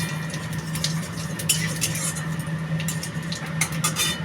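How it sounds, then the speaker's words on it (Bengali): Cumin seeds temper in hot oil with dried red chilli and bay leaf, a steady close crackling sizzle that runs throughout, with light metallic pan and utensil clinks over it. "জিরে ফোড়ন দেওয়া হলো।"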